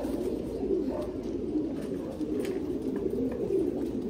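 Thai Titan pigeons at a pigeon farm coo in a low, continuous, overlapping chorus that stays close and steady throughout.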